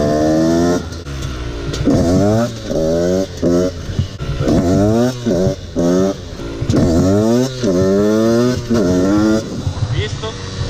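A Husqvarna WRE 125 motorcycle engine revs up repeatedly during wheelie practice, each rising whine cut off by a shift into third gear, the bike loud and close throughout.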